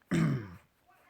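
A single throat clearing, almost a cough, after something went down the wrong way: one loud, close, rough burst lasting about half a second, then fading to quiet.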